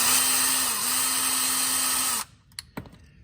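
A power tool whines loudly and steadily for about two seconds while backing out oil pan bolts on a 2016 VW Golf, then cuts off, leaving a few faint clanks and taps of loose parts.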